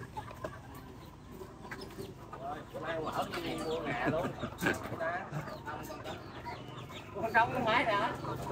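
Chickens clucking and squawking close by in a rural forest setting, a busy stretch of overlapping fowl calls that swells louder toward the end, mixed with background noise and voices.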